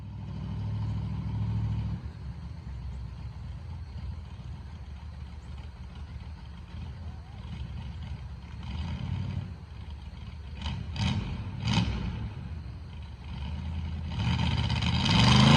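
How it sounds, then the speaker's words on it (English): A V8-swapped Chevy S10 truck on a street, its engine rumbling low and steady, swelling as it passes near with a brief rev burst, then roaring up again at the end. "that was a really solid pass for the truck"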